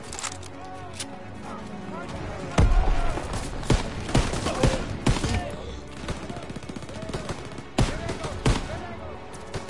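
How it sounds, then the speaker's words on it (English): Rapid gunfire from the video game Call of Duty WWII, with loud sharp bursts and single cracks scattered over about ten seconds, a player's voice talking between and under the shots. "I shot him through the brick."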